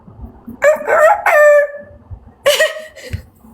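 A voice imitates a rooster crowing, with two drawn-out, strained calls separated by a short pause, loud and close.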